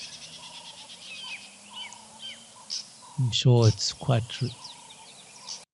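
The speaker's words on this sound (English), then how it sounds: "There's also a yellow-billed hornbill calling, wonderful sound. The doves." Birds call outdoors at a hide, with a yellow-billed hornbill and doves giving repeated chirping and cooing notes at a moderate distance while someone talks over them in the middle.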